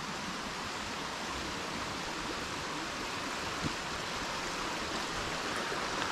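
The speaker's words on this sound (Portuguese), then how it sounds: "Gente, esse barulhinho de água é tudo para mim." Steady flowing stream water along a forest trail in Tijuca Forest, Rio de Janeiro, a continuous broadband rush heard alone and fairly close, with no voices.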